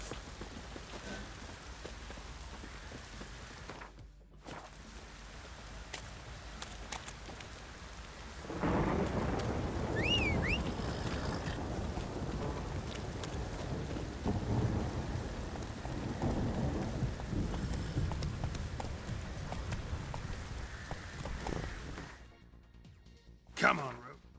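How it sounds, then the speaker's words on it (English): Heavy rain pours steadily with rumbling thunder in The Witcher 3, the downpour growing louder partway through as thunder rolls build, then fading near the end, with someone speaking briefly over it. "This downpour's a bastard, it is. If it don't stop raining"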